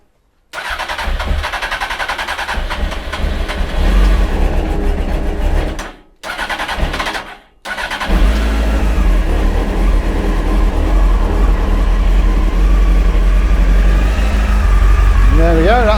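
A Honda Fireblade motorcycle with a fresh battery cranks on choke, stutters through brief pauses, then catches and settles into a steady, close, loud idle.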